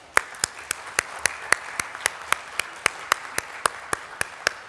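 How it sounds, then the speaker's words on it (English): A steady round of applause for a conference panel on climate finance. Sharp, evenly spaced claps ring out one after another over a quiet room, sounding close and isolated, like a single person or a small group clapping in rhythm. "may I give a round of applause for our incredible panel"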